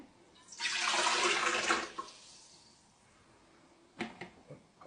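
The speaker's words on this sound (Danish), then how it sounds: "Vi starter med 5 dl tempereret vand." Lukewarm water, about 5 dl, poured into a bowl for homemade pizza dough, a loud splashing stream for roughly a second and a half, then a few light clinks of kitchen handling.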